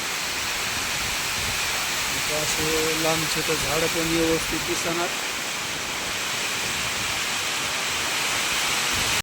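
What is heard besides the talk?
heavy rain pouring on flooded farm fields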